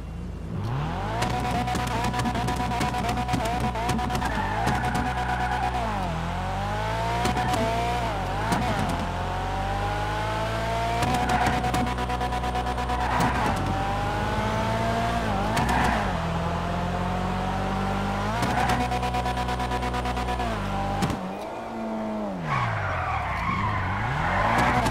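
Annis Remus car in GTA Online driving hard with loud, continuous engine drone and repeated tire skids and squeals as it slides through turns, engine pitch rising and falling throughout.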